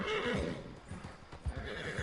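A horse in Red Dead Redemption 2 whinnies close by, followed by a few heavy hoof thuds and snorting, fairly quiet overall.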